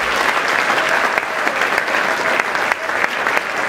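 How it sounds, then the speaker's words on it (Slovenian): A large audience at a sports awards ceremony applauds steadily, dense continuous clapping that fills the room, loud and sustained throughout. "dajmo en velik aplavz še gospod Lojze Kolman"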